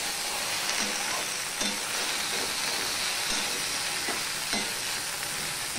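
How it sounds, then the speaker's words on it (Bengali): Okra fries over a high gas flame. A loud, dense, continuous sizzle fills the scene, with periodic stirring scrapes rising above it. "গ্যাসের ফ্লেমটা কিন্তু আমি হাই করে দিয়েছি ভেন্ডি ভাজতে।"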